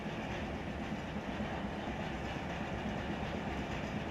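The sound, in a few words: rail cars rolling in hump yard, Run 8 Train Simulator video game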